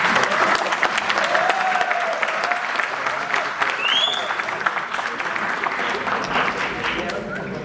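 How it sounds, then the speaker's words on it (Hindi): Audience applause at a live Hindi comedy play performance, a steady dense clapping crowd throughout, with some voices and whoops mixed in. "एक बार जरा तालियां बजा दीजिए"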